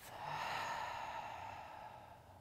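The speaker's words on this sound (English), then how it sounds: "and exhale through the mouth" Soft, steady exhale of breath through the mouth during a guided yoga flow, a quiet airy rush that fades gently over a couple of seconds.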